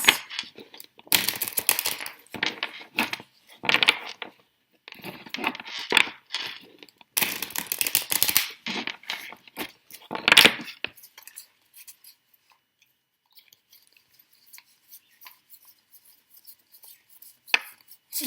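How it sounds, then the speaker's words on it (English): Crisp papery slaps and riffles of tarot cards being shuffled in several quick bursts, close by, then quiet with faint rustling. "Two more shuffles."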